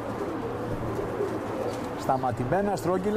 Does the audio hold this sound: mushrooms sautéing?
no